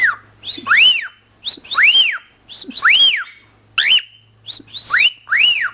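A pet bird repeats its flirt whistle close up: a series of clear, rising-and-falling whistled notes in short rhythmic phrases separated by brief pauses, with no talk.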